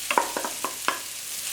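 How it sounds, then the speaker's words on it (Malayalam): Grated coconut is fried in leftover ghee for sweet aval balls, a soft sizzle with several distinct stirring scrapes in quick succession, close and fairly quiet. "ബാക്കി വന്ന നെയ്യിലേക്ക് നമുക്ക് ഈ തേങ്ങ ചിരകിയത് ഇട്ട് കൊടുക്കാം."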